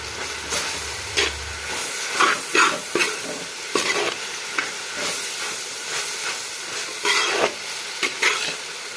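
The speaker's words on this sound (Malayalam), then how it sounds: "തക്കാളി ഉള്ളിയൊക്കെ വഴന്നിട്ടുണ്ട്." Tomatoes and onions sautéing in a pan for Kerala-style beef fry: a soft continuous sizzle broken by repeated scraping stirs of a spoon, close and fairly loud, with no talking.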